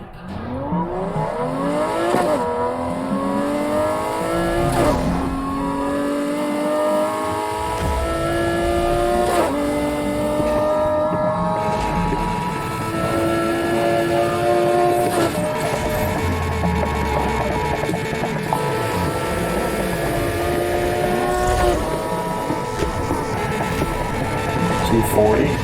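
A race car engine in Need for Speed Heat revs hard and climbs through gears in repeated rising sweeps, loud and continuous with brief shift dips, nitrous in use.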